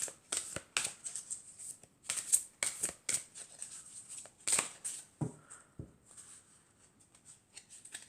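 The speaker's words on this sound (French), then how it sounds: "je vais prendre encore deux cartes pour voir ce que ça nous dit" Oracle cards being shuffled and drawn by hand, a run of crisp papery riffles and flicks with short pauses between, close and fairly quiet with no voice over them.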